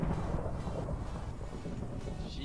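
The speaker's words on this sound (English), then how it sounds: "Can this thunder shut up?" Thunder in Minecraft with the GregTech: New Horizons modpack, a steady low rolling rumble that stays constant and moderately loud for the whole stretch, with no talk over it.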